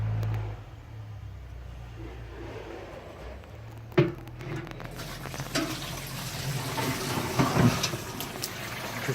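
Fish tank water pours into a rainwater collection container, starting with a sudden splash and then going on as steady running and gurgling over low background noise.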